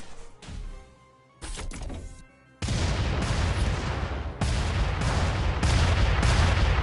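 Regulus mech launching rockets in the Front Mission 2 remake, a few sharp whooshing launches at first, then a sustained loud roaring barrage of blasts with a fresh surge partway through.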